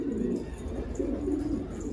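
A caught runaway pigeon, an Urfa bird, coos close by in low, throaty, repeated rolling calls.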